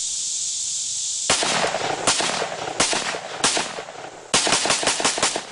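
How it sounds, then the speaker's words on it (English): Gunshots from nearby shooting ring out outdoors: sharp cracks come singly and in quick bursts, loud over a steady high cicada drone that plays alone for the first second. "Hey, look, shooting."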